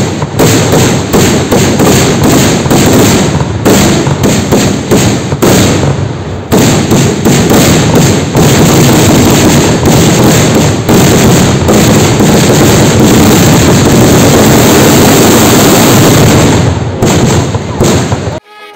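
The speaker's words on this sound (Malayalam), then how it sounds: "മകരസംക്രാന്തി ദിനത്തിൽ വൈകിട്ട് ദീപാരാധനയ്ക്ക് ശേഷം മുഴങ്ങിയ 1001 കദന വെടികളോടെ കൊടുങ്ങല്ലൂർ" A long barrage of kathina firecracker blasts at a Kerala temple festival in Kodungallur, loud booming thuds following one another rapidly for nearly twenty seconds with brief gaps, harsh and close with wind noise.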